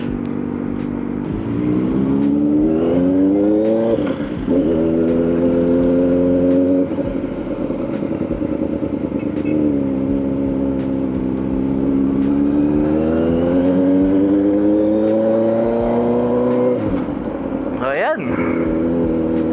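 A Kawasaki ZX-4RR motorcycle engine rises and falls through its revs in a steady, loud, high-pitched whine while being ridden, with a person talking over it throughout.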